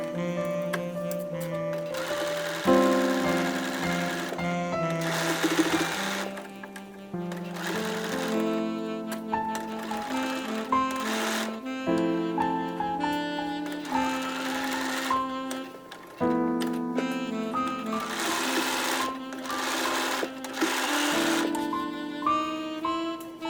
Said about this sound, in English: Here's the bias pinned on, and I'm ready to just start sewing.